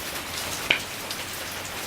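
Steady rain falls across the whole stretch as a dense, even hiss, with one brief sharper drip or tap near the middle and no voices.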